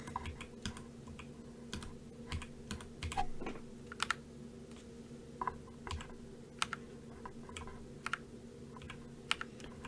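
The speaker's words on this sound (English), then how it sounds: "And while I test out my other keyboard." Typing on an RK98 100-key mechanical keyboard during a gaming test: a steady run of sharp, close key clicks in irregular bursts over a low background hum, with no talking.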